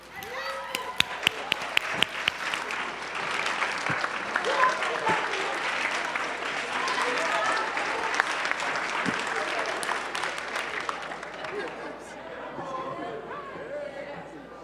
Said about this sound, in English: Let's give a great big round of applause for Frankford High School.